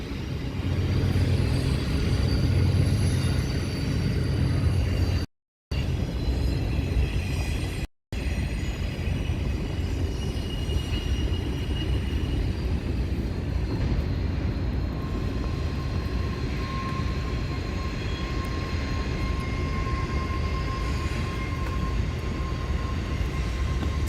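A Norfolk Southern train rumbles past at night in a community park in Henry County, Georgia, a steady loud broadband roar with a faint high whine and a brief horn-like tone, sustained for the whole stretch with no talk.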